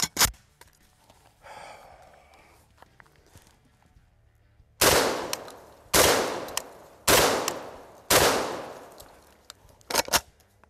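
Five loud, close shots from an InterOrdnance XP AK shotgun, fired at a slow, steady pace about a second apart outdoors, each one followed by a short decay. A faint sharp click comes near the end.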